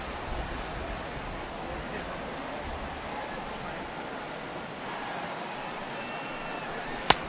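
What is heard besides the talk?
rain falling at baseball stadium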